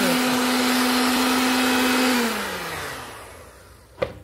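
An electric mixer beats 250 grams of cream with a loud, steady whir close by, then winds down and stops, followed by a single sharp click.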